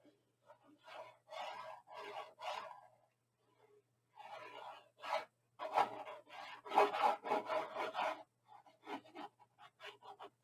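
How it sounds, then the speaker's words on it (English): Paper being burnished down onto chipboard by hand for a picnic basket mini album, heard as repeated close rubbing strokes in bursts, scratchy and raspy, with short pauses between passes. "I'm going to go ahead and burnish it so that it stays."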